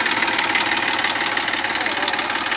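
A new Massey Ferguson 241 DI tractor, 41 hp with a 5-speed gearbox, idles with a steady, even diesel chug and knock, close and continuous with no talking.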